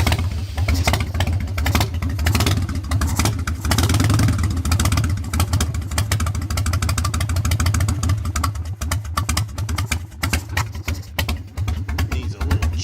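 An old motorcycle engine, needing choke, runs with a loud rapid chugging beat, steady at first then growing uneven and stumbling, close by with no talking.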